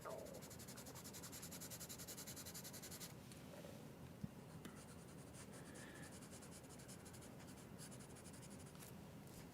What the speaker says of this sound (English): then I'll shade this in with a 2B pencil